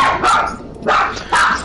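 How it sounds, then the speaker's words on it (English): Small dogs bark in three short bursts, close and loud, with brief pauses between the yips. "That's my dogs barking."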